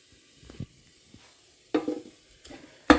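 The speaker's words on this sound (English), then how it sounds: "First of all, I am sautéing off the mince." Minced meat sizzles and spits while being sautéed in a pan for a garlicky dish, coming in short uneven bursts with quiet gaps between and a loud crackle at the end.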